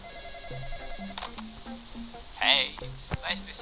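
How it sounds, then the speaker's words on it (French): A video game telephone rings with a repeating electronic tone pattern, heard at moderate level beneath someone talking throughout. "Ah, j'ai oublié de répondre au téléphone quoi."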